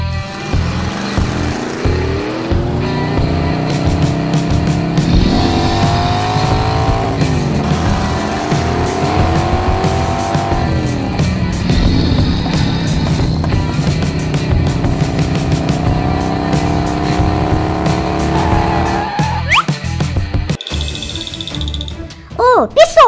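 A newly assembled quad bike is ridden hard, its engine revving up and down in repeated rising and falling sweeps, loud and close, with a brief sharp burst near the end as the revs drop.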